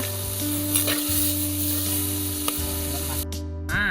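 Ingredients for a gongura chicken curry fry in a pan with a continuous close sizzle, a low steady hum running underneath and a faint scrape or two; no voices.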